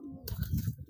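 A young pigeon gives a short, low, throaty coo, close and clear, lasting about a second.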